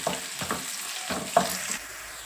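Onion and green chili fry in a pan with a soft sizzle, while a few scraping stirs of a spoon come through close by and quiet, with no talking.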